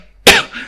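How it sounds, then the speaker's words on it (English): A single loud, close cough bursts out abruptly and fades into a brief breathy tail, heard alone. "Excuse me, I'm going to cough."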